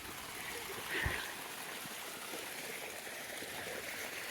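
Water running through an irrigation channel cut across a Konkan village farm field, a steady soft trickling wash with one brief splash near the start, heard alone without talk.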